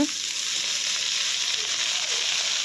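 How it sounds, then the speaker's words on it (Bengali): Hot oil with onion and garlic fried red sizzles loudly and evenly as leafy greens go into the pan, a dense close hiss with no voices. "পেঁয়াজ রসুনটা লাল হয়ে গেল, এখন শাকগুলোকে ঢেলে দেওয়া হবে।"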